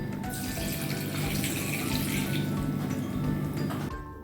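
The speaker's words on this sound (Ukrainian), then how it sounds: "додаємо воду." A steady stream of water runs into a pot of pumpkin and sugar for about four seconds, a continuous rushing splash that stops abruptly at the end.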